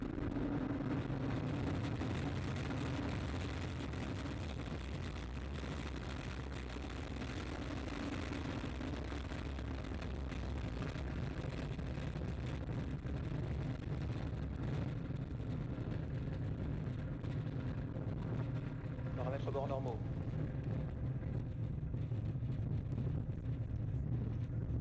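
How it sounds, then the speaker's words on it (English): A rocket lifting off after ignition of its two EAP solid boosters, carrying a heavy communication satellite, produces a continuous low, rumbling roar heard from a distance, steady throughout with a faint brief tone near the end. "Allumage des deux EAP, décollage."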